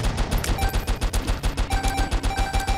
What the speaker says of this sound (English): Your sprinklers are legit fireworks right now.